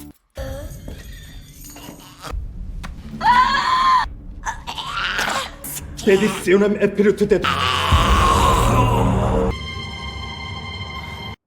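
A woman in a movie scene screams and groans in agony, with loud strained wails rising and breaking over dark tension music, several drawn-out cries in a row before the music swells alone.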